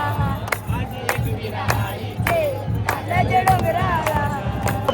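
A festive crowd at the Aai Ekvira palkhi procession cheers and shouts with loud, overlapping voices and sharp bursts of noise over a steady low rumble, close and lively throughout.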